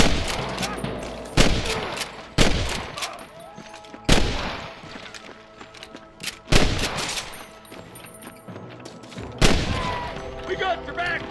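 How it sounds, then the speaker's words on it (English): Gunfire in Red Dead Redemption 2 cracks out in loud, widely spaced single shots and short bursts, each ringing with echo, while voices talk between them. "I can hear more gunshots."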